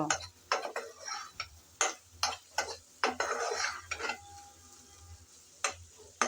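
Potatoes stirred and fried in a pan with a fish oil curry: a close spatula scrapes and knocks at an uneven pace over a soft, steady sizzle, with no talking.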